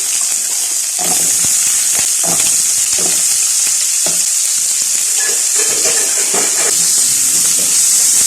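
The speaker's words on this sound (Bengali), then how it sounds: "এবার এর মধ্যে দিয়ে দেবো আমি পরিমাণ মতো তেল, দিয়ে দেবো কেটে রাখা আলুটা" Cut potatoes fry in hot oil in a pan, a loud bright hiss of sizzling fat running throughout with intermittent stirring scrapes and clinks underneath.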